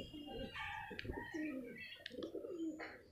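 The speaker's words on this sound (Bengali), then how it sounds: "এ আমার আগের কবুতর।" A domestic pigeon coos at close range in soft, repeated throaty phrases, joined by faint chirps, in a quiet setting without speech.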